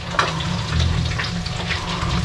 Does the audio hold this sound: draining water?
yes